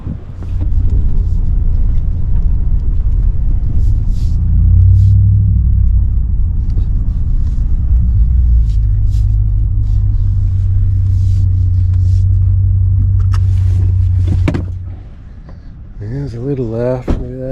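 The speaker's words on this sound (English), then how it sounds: "go take a little bit of a drive over here in the neighborhood real quick" A car rolls slowly through a low-lying bayside neighborhood at King Salmon on Humboldt Bay after a storm, a loud steady engine rumble from inside the cabin that drops away near the end, with someone speaking over it.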